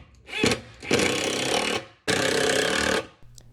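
A power driver whirs in two sustained bursts after a brief buzz, close and loud, with short pauses between, driving screws into kitchen drawer slides.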